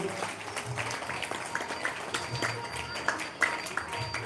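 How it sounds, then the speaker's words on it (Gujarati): An audience applauds at a Gujarati community gathering, steady mid-level clapping spread across the hall for a few seconds, with scattered sharper claps standing out and a murmur of voices underneath. "જોરદાર તાળી પાડવું"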